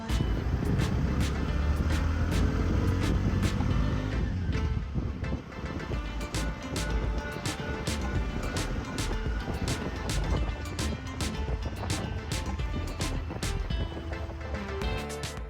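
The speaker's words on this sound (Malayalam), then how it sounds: "നല്ല കിടിലൻ ഓട്ടോ കേട്ടോ ബജാജിൻ്റെ." A Bajaj auto-rickshaw ride along roads in the Philippines: the small engine drones on continuously beside constant wind rush, with scattered ticks and rattles from the vehicle, and no voices.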